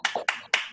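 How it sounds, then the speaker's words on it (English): A few online attendees clap for the speakers at the close of a virtual coffee break chat, four or five close, distinct claps in quick succession. "you can give a little round of applause to all of our speakers today"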